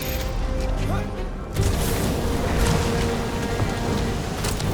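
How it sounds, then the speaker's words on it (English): In the Guardians of the Galaxy video game, a storm's wind and rain roar as a dense, continuous wash, loud and steady with low rumbling beneath. "This storm really ain't doing it for me, Quill"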